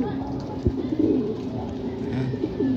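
Pigeons coo in a low, steady murmur at a racing-pigeon loft during a training release, with a brief thump near the start and some faint background talk.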